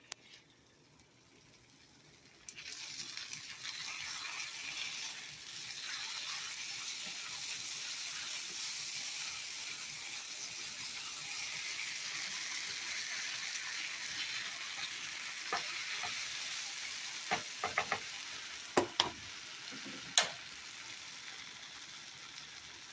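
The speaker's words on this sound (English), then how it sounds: "Keep an eye on your refried beans. Make sure you keep stirring them." Refried beans cook in a pan with a steady soft sizzle and bubbling that starts after a quiet moment, with a few sharp scraping clicks of stirring near the end.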